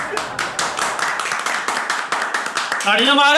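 Rapid steady clapping on a tea time talk show, loud and close with evenly spaced claps over about three seconds, then a voice speaking at the end.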